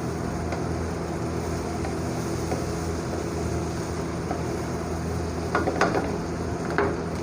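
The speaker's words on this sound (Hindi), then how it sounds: "और इसको चम्मच की मदद से हिलाएंगे।" Aloo gobi curry with black pepper, garam masala and cumin stirred by spoon in a pan, a steady close sizzle with a few soft scraping clinks near the end.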